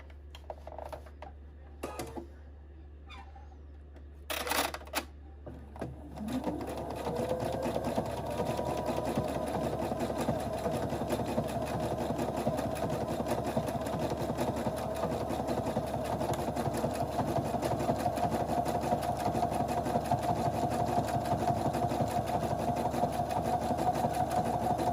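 A sewing machine stitching a small pocket tissue holder, a few short bursts followed by a long, steady mechanical whirring run at close range.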